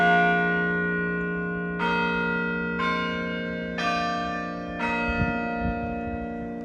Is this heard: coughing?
no